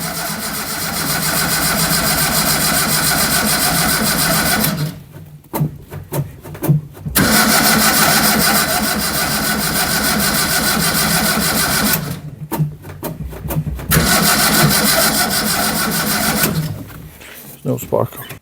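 A Zastava 850's engine with a temporarily fixed starter cranks loudly and steadily in long runs, broken by short pauses, without catching.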